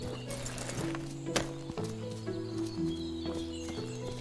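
Clip-clopping hooves and a horse's whinny in the video game Medieval Dynasty play over steady, droning synthesized game music, with clicky interface sounds.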